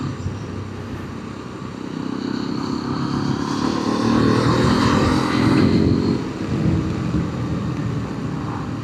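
A Hero Xpulse 210 motorcycle on the move, its engine droning steadily with wind rush as it swells in pitch and loudness through a turn, continuous and close with no talking.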